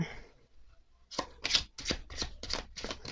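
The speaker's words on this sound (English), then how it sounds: "They shuffle really nice." Oracle cards with US Games cardstock are shuffled in quick bursts of crisp riffling, close and fairly loud, after a brief quiet moment.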